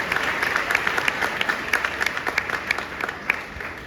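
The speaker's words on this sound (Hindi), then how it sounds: "मैं चाहता हूं कि आप लोग जोरदार तालियां बजाएं" An audience at a coaching-institute event breaks into steady, fairly loud applause, with dense clapping that carries on for several seconds.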